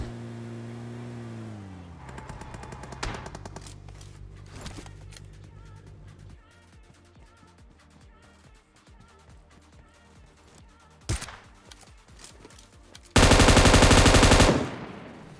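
An M249 machine gun fires in a battle royale shooter, heard as rapid rattling bursts at middle distance under other game noise, ending in a loud, harsh sustained blast near the end.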